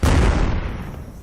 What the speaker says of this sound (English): I take a blind shot